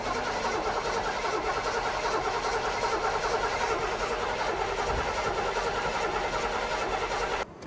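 A muscle car engine cranks over and over without catching, a sustained, evenly churning grind heard up close that cuts off abruptly at the end.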